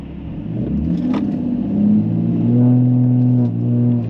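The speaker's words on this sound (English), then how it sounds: "exhaust still loud" Loud exhaust from a car fitted with a custom DPF delete downpipe, revving in a workshop, a deep rumbling drone that swells and holds, close and alone with no talk.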